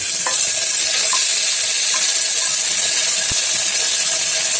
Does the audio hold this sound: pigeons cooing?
no